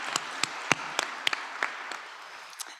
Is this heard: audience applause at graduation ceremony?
yes